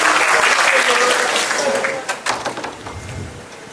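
Applause from a stand-up comedy audience at Stand Up Nite 8 in Depok: thick clapping fills the first two seconds, then thins into scattered claps as a voice begins speaking.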